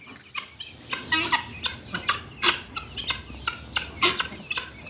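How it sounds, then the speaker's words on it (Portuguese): Guinea fowl on a farm giving rapid, harsh, repeated clucking calls in an uneven rhythm, fairly close and moderately loud, with no talking. "e os guinés."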